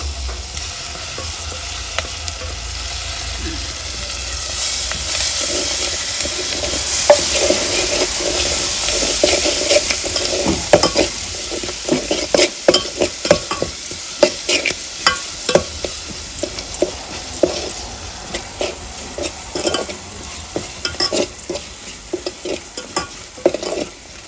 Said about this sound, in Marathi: कांदा खोबऱ्याचा मसाला टाकायचा आता याच्यात.